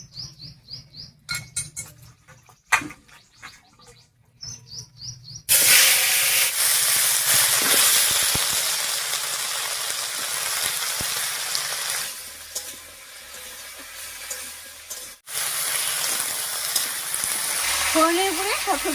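Chopped vegetables hit hot mustard oil tempered with cumin, dried chillies and bay leaf, first with scattered clatter and clinks, then a sudden loud, steady hiss of frying that dips briefly and returns as they are stirred.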